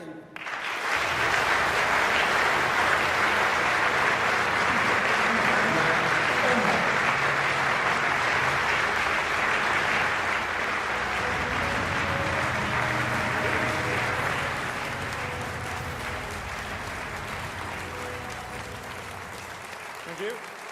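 Sustained applause from a large audience at a UK Conservative party manifesto launch greets a speaker being welcomed, dense clapping holding steady for about fifteen seconds before easing slightly toward the end.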